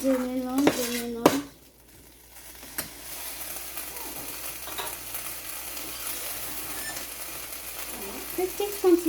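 Attiéké is mixed in a dish with a utensil: a few sharp metallic clinks at first, then quieter scraping and stirring with faint background kitchen noise.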